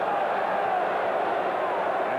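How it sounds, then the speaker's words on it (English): A basketball arena crowd at The Spectrum in Philadelphia keeps up a broad, steady roar through a playoff game, fairly loud and diffuse, with no distinct peaks. "And the crowd reacts because the ball was thrown in anger by Purdue."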